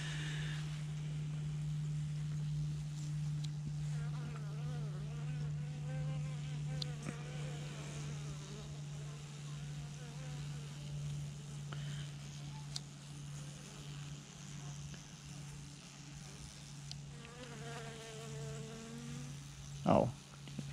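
A honeybee colony hums with a steady, close, insistent buzz during an oxalic acid treatment, single bees whining past now and then, one loud fly-by near the end.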